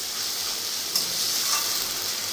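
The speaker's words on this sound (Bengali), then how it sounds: "তেল গরম হওয়ার পরে আমি এখানে আদা, রসুন আর লঙ্কা বেটেছিলাম, ওটাও দিয়ে দিলাম।" Ginger, garlic and chili paste hits hot oil in a pan and sizzles loudly and steadily, a bright continuous frying hiss with a brief sharper spatter partway through.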